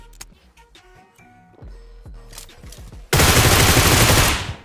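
Gunfire in the mobile battle royale game BGMI: several separate sharp shots and clicks, then a dense, loud burst of rapid automatic fire that sustains for over a second near the end.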